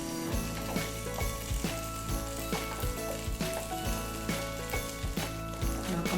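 Pitted dates sizzling in hot butter in a large saucepan, a close, even frying hiss broken by regular soft knocks of stirring roughly every half second.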